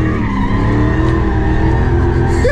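A Dodge Hellcat spins tandem donuts, its tires screeching in one continuous loud skid over a roaring engine, close and unbroken for the whole stretch.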